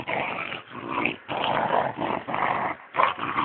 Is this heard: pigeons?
no